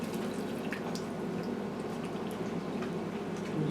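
Just-boiled hot water is poured into a jar of mixed pickles packed with salt and vinegar, and it fizzes and bubbles steadily at close range with a soft, continuous hiss and no voices.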